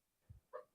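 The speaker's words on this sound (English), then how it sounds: "that's my dog. It is dreaming." A pet dog whimpers in its sleep while dreaming, making a short low huff followed by a brief higher whine, soft and close in a quiet room.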